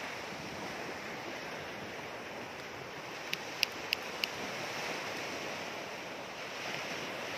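Sea surf rolls steadily onto a public beach at Marsa Matruh, a continuous broadband wash of waves with light wind noise and a few faint clicks partway through, with no talking.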